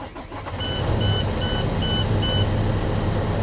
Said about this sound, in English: So now I'm gonna start the vehicle up.